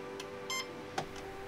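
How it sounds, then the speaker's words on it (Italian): A FlySky FS-i6X radio transmitter gives a short electronic confirmation beep as settings are saved, a single clear tone burst standing out briefly over low room background. "Questo beep conferma che le modifiche sono state salvate."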